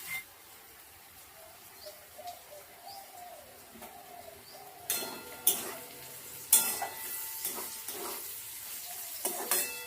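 Vegetables for shukto dal frying and being stirred in hot oil: sizzling and irregular scraping strokes grow louder in the second half, while a dove coos softly in the background early on.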